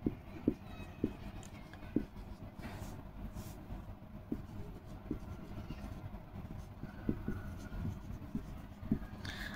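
A name is handwritten with a pen, giving soft, close scratching strokes and light taps in an irregular rhythm over quiet room noise, without any talk.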